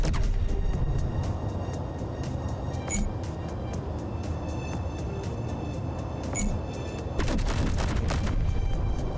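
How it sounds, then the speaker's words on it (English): Repeated booming cannon shots from a ship in the game Space Engineers, several blasts spaced a few seconds apart over a constant rumbling background, with a burst of rapid firing near the end. "Should I try my cannons?"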